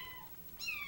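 Kitten meowing while drinking from a feeding bottle: one short, faint, rising meow near the end, close by, after a quiet stretch with no talk.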